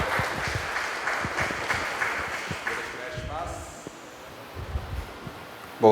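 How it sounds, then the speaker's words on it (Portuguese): Scattered applause from a modest crowd as a speaker is introduced at a morning talk, fading out midway, followed by quiet shuffling room noise and a brief voice. "uma salva de palmas para o Yoshimitsu, Yoshi."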